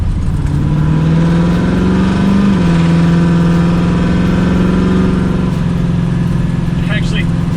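A loud, rattly 1969 Pontiac Firebird engine drones steadily from inside the moving car, its pitch rising and falling slightly as it drives, with a person talking over it.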